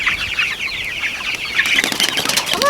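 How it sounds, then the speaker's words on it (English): Young chickens cluck loudly and flap their wings up close as they are herded to be moved, with busy, overlapping calls and rustling wingbeats throughout. "Oh, good chickens."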